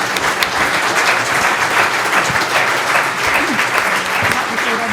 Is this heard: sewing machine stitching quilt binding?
no